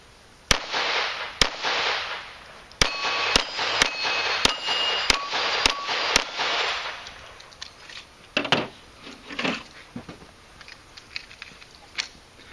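Gunshots ring out at shooting practice as sharp, loud single reports, roughly a dozen spaced irregularly with metallic target rings after some, and brief talk in between.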